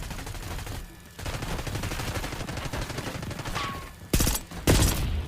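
Gunfire rattles in an online shooter video game: rapid shots run under the background, then two loud, sharp bursts land near the end.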